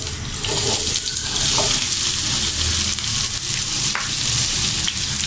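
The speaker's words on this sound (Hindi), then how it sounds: "अब हम इसको फ्राई पैन में शामिल कर देते हैं।" Medium-sized onion slices land in a frying pan and sizzle steadily, a loud continuous hiss with faint spoon scrapes and clicks, no voices.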